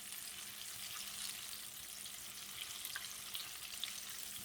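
Apple fritters frying in hot oil give a soft, steady crackling sizzle with scattered small pops, faint and alone.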